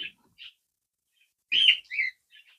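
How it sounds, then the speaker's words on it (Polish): Sparrows chirp in dense vegetation beside a chicken and rabbit run, giving a handful of short, bright tweets in scattered clusters, fairly close and alone. "Wróble tu przelatują, przecież tu jest taki gąszcz tej roślinności, to wróbli tutaj pełno."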